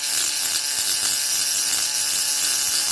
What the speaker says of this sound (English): let me get these holes drilled out